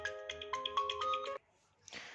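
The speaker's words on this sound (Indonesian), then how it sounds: "ini ada telepon lagi" A phone ringtone for an incoming call plays a bright, repeating melodic pattern of quick tones for over a second, then cuts off abruptly, followed by a brief rustle of handling.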